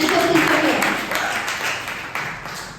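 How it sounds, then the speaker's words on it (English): Classroom group clapping for a teacher during a microteaching lesson, a short patter of scattered applause with a few sharper claps, fairly close, fading unevenly over a few seconds. "let's give a round of applause for the handsome teacher here"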